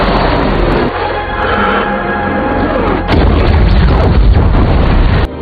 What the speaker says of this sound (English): Belle fired a missile which would deactivate her meter again